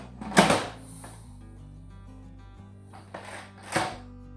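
Pressure cooker lid set back on and locked: a sharp metallic clack, then a low steady hum with faint scraping, then two more clunks of the lid seating and twisting shut.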